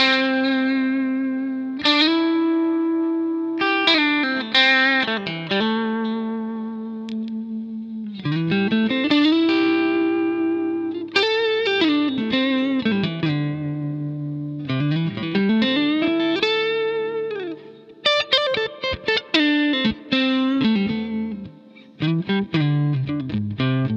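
Vox AC30C2 guitar amp with its reverb turned all the way up, an electric guitar playing chords and sliding lines that ring with heavy wash and effect, loud and continuous with brief gaps.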